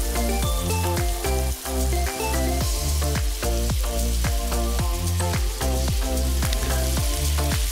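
Garlic added to potatoes frying in a pan, a loud, close, dense sizzle with rapid crackling pops and a few stirring scrapes, continuous throughout.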